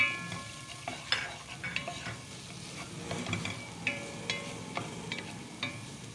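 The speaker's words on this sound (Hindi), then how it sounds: "ऑयल के गर्म होने के साथ ही हम इसमें डालेंगे गाजर और इसको अच्छे से मिक्स कर लेंगे और फ्राई करेंगे" Carrots hit hot oil and are stirred steadily, a continuous soft sizzle broken by repeated scrapes and light clinks of the spoon against the pan, with no voices.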